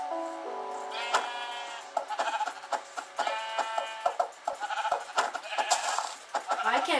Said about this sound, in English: But I'm gonna hit this sheep.